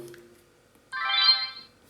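A Nikon Coolpix L25 compact camera powers on with a short, clear electronic chime lasting under a second, heard alone in quiet surroundings.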